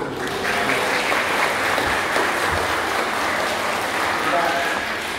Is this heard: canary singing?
no